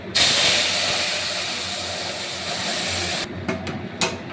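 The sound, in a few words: tempering dal with spices, sizzling hiss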